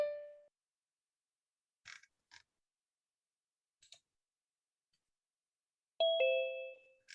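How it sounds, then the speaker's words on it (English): A two-tone doorbell chime rings clearly at the start and again near the end, with a few faint clicks in between, in an otherwise quiet room. "you're probably all hearing the doorbell sound"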